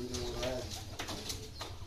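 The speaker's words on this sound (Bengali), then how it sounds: "বিগ সাইজে যে সিরাজি কবুতরগুলো আছে, অনেক সুন্দর" Large Shirazi pigeons coo in a village loft in Magura, a steady layered burbling that runs close and fairly loud across the whole short stretch, with a few softer calls rising over it.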